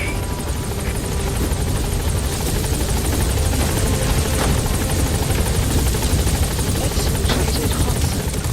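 The support helicopter from the video game Metal Gear Solid V: The Phantom Pain thrums steadily with a loud continuous rotor beat and engine whine, filling the whole stretch with no pauses.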